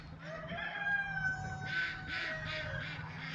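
A rooster crows outdoors, a long drawn-out call with other farm birds clucking faintly in the background.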